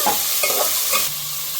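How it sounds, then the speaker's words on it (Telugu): Vegetables for a veg biryani stir-fried in oil in a pot, with a brief close sizzle and spoon scrapes over a steady hiss of frying. "వెజిటేబుల్స్ అన్నీ చక్కగా వేగనిద్దాము, ఆయిల్ తేలేంత వరకు కూడాను"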